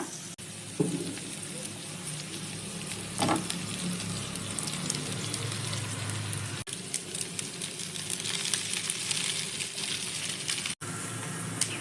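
Cut colocasia leaf patrode frying in a tempering with browned onions, a steady close sizzle with light spattering and a stir clatter throughout.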